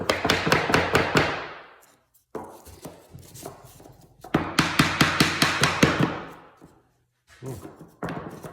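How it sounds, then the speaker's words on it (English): A little hammer striking a piece of wood, delivered in fast bursts of sharp, ringing taps with short pauses between, loud and close. "Just take a little hammer,"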